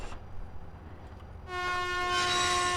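A train horn in a Ukrainian railway video game sounds loud and sustained for over a second, following a quieter stretch of low rail rumble as the train slows.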